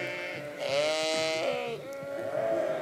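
Sheep in a flock give drawn-out, quavering bleats that overlap one another, close and fairly loud, with one long call in the middle and another starting near the end.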